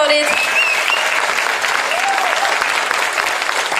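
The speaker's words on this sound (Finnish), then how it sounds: "Annetaan meidän ihanille daameille vielä hurjaan raikuvat aplodit" Loud, dense applause from an audience at the Nastola Miss Twang & Twist 2022 pageant evening, a continuous roar of many hands clapping with some cheering, steady throughout.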